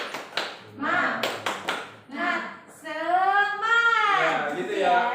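A classroom group claps a rhythmic cheer in quick bursts, followed by children and a teacher's voice chanting along.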